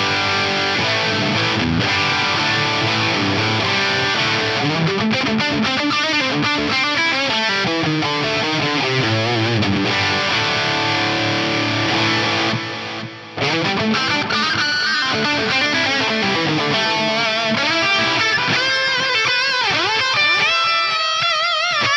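Distorted electric guitar through an amp modeler with surround delay plays a flowing melodic line with echoing repeats trailing each note, loud and continuous throughout.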